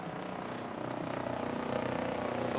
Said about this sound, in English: A loud-ass helicopter.